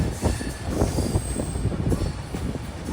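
Andhra Pradesh Sampark Kranti SF Express train running on the Tirupati to Kacheguda line near Dhone Junction, with a steady rumble of wheels and rolling cars, squealing metal and rhythmic clatter throughout, loud and close.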